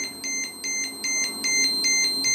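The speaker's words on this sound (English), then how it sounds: "I flick the switch once, and I got a little beeper" Lost-model locator beeper on an XLPower Specter 700 nitro helicopter chirps in a rapid repeating pattern of short, shrill electronic tones about every half second, close and steady, with no voices.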